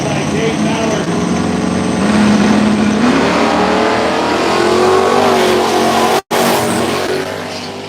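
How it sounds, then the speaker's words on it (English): A nitrous-fed big-block no-prep drag race car at an outlaw street-car event roars loud and close, its engine pitch climbing steadily as it accelerates down the track, with a brief cut near the end. "So here comes the Nitrous Big Block"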